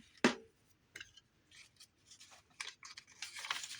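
Scissors cut into a folded paper envelope to make a pocket: one crisp snip up close, followed by a run of smaller cuts and paper rustling at low volume.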